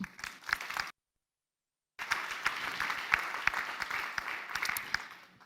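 Applause from a conference audience at an aviation round-table, dense clapping that stops for about a second of silence and then resumes steadily and moderately loud.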